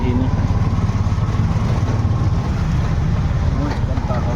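A steady, loud engine drone runs throughout, heard from inside an auto rickshaw riding along roads in Gujarat, with no pauses and a faint voice under the noise.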